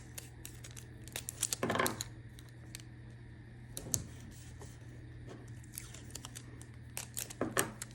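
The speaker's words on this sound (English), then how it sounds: "I'm going to take some tape to hold it in place." Adhesive tape is pulled off and torn in a few short, rasping bursts spaced several seconds apart. Faint small handling clicks fill the quiet between them.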